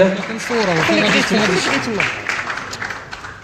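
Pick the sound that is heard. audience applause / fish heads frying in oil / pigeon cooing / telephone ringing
audience applause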